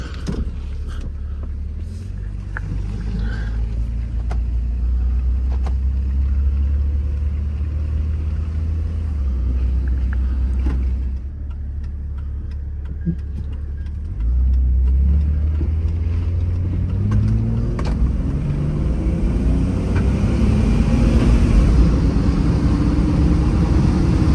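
A 2001 Jeep Grand Cherokee Laredo 4X4 drives around the block, heard from inside: a steady, loud low engine and road rumble that briefly dips and then rises again as the vehicle picks up speed.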